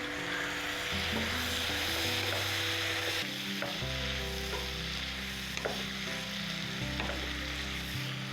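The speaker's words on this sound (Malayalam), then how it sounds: "ഈ തക്കാളിപ്പഴം ഇട്ടിട്ട് നമുക്ക് നല്ല രീതിയിൽ നിന്ന് ഇളക്കണം" Tomatoes stirred into a sizzling pan of mushroom pepper fry, a steady frying hiss with scraping stirs and a few sharp clicks, loud and close with no voices.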